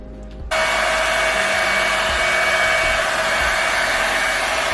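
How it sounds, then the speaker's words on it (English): A blow dryer on low heat switches on abruptly and runs with a steady, loud airy roar and whine, close by and unchanging. "we're gonna take our blow dryer on low heat, and I'm just going to let this dry"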